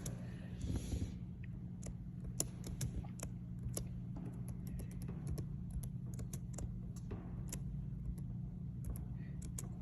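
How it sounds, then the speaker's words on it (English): Someone types an address on a computer keyboard, with irregular close key clicks over a low steady hum, no talking. "I'm gonna let her type in her address"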